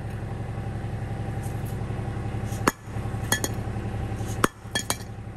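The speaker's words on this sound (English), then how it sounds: "Drive this bushing in here." A hammer drives a bushing into a bush hog wheel hub, giving a few sharp metallic strikes, close and loud, over a steady engine idle rumbling in the background.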